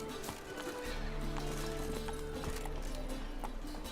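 Roach, Geralt's horse in The Witcher 3, gallops with continuous drumming hoofbeats that stay steady and fairly close throughout, layered over a sustained tonal game soundtrack.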